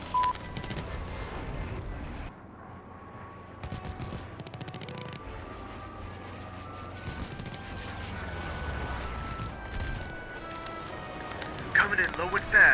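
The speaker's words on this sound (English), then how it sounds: "Strafing ground troops now." An aircraft strafes ground troops in War Thunder, with rapid bursts and scattered shots of gunfire amid game noise and continuous talking over the top.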